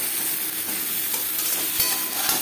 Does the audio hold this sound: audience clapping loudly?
no